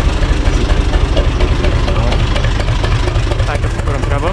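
A Universal U445 DT 4x4 tractor's engine runs close and loud, a dense, steady rumble that keeps the same chugging drone for the full few seconds.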